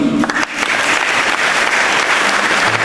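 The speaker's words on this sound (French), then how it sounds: "S'ils sont là, qu'ils s'applaudissent." Baptized children and congregation clap together inside a church, a dense burst of applause that starts loud and carries on steadily for a few seconds with faint voices mixed in.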